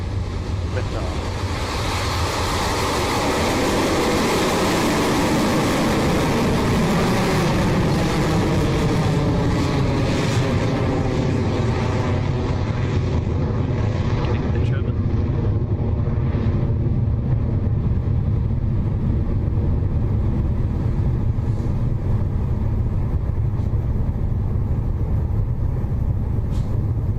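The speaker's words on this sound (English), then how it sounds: "Electron has left the pad at RocketLab Launch Complex 1 in New Zealand" An Electron rocket lifting off from Rocket Lab Launch Complex 1 in New Zealand, a steady, loud, broadband roar that rumbles on without pause and slowly shifts in tone as it climbs away, with a commentator talking over it.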